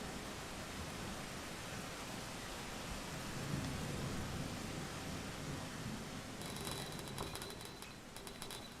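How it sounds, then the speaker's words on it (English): Heavy rain from the video game Rain World Downpour hisses steadily, dense and full, with a low rumbling undertone. Sharp crackling taps join toward the end. No one speaks. "they took the rain effect and gave it, like, more purpose"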